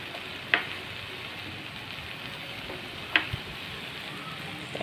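A cluster bean stir-fry with grated coconut sizzles softly in a pan under steady frying hiss, with two sharp spoon clinks as it is stirred.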